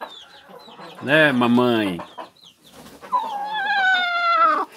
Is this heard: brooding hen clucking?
yes